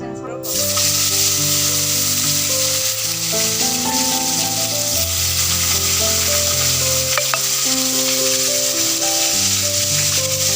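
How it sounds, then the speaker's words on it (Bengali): Fish curry cooks in a pan after the fish pieces were fried, a continuous close sizzling hiss under loud background music. "মাছগুলো ভেজে নিয়ে এখন তরকারিটা রান্না হচ্ছে"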